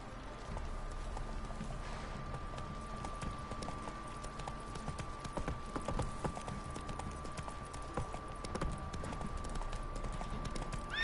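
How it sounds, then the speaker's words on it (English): Horse hooves clop in a quick, steady rhythm while riding in The Witcher 3, fairly quiet under a faint steady background tone. "El caballo aquí sí que lo puedo montar"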